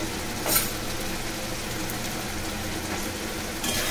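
Chicken kosha with Kashmiri chili powder is stirred in a hot pan, giving a steady close sizzle with a few brief scraping bursts and no talking.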